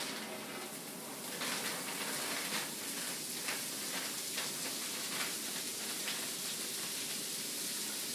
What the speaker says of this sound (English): the pan for the cabbage, it's nice and hot and ready for the cabbage to go in also